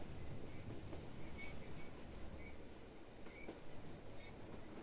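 Train rumbling along in the driving game Test Drive: Phoenix Springs, a continuous thundering mechanical roar with faint metallic clatter and squeals.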